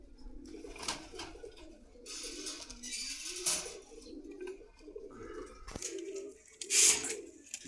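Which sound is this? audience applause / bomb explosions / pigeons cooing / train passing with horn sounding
pigeons cooing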